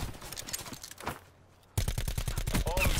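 Sniper gunfire in the video game Call of Duty Blackout, with a loud dense run of sharp cracking shots in quick succession after a brief lull, mixed with game sounds and background chatter.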